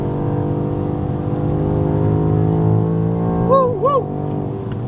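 The engine of a BMW X6M SUV drones steadily at speed on the Dijon racetrack, heard from inside the cabin as a loud, even hum that climbs slowly in pitch. Near the end comes a brief wavering tone.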